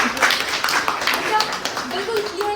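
A group claps during a business workshop, with uneven rhythmic hand claps and voices talking over them.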